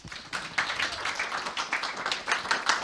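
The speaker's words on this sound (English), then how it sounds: "So please welcome her with a round of applause." An audience claps to welcome the Deputy Mayor of Harrow at a Visit My Mosque 2017 event, a steady burst of many hands lasting under three seconds with no voices.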